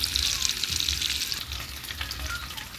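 Pork steak frying in a pan with a steady, moderately loud hiss and crackle, continuous throughout with faint low clatter beneath and no voices.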